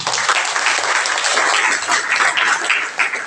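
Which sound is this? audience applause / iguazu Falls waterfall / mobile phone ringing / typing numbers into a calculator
audience applause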